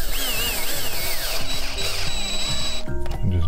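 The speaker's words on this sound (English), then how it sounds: "we're going to screw it in, and I've got some very tiny screws so that they don't go through this piece of plywood" Tiny screws are driven gently into a pre-drilled hole in plywood to fasten a plastic part for an RV cab privacy curtain, giving a close, steady run of ratcheting clicks over a faint tonal background.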